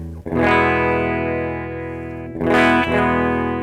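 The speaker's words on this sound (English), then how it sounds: "what would it sound like if it was a super reverb on scene 1?" Two sustained electric guitar chords ring out through a Super Reverb amp model on a NUX MG-300 MKII, each struck then left to sustain, with a warm, slightly dirty tone and lush reverb tail.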